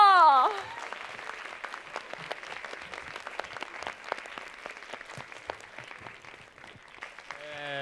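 An audience at a children's musical theatre performance applauds steadily for several seconds to welcome the director, a dense sustained clapping close by, with a voice briefly over the start and the end.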